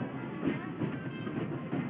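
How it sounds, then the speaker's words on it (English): Disneyland Railroad train rolling into New Orleans Square Station at dusk, a steady, moderately loud rumble of wheels on track with faint periodic clacking, continuous across the moment without speech. "please remain seated until the train comes to a complete stop"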